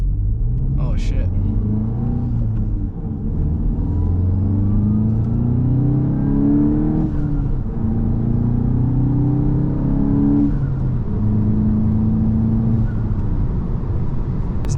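A manual VW Mk8 GTI pulls away in first gear, its low engine rumble steady and close inside the cabin while someone talks over it throughout.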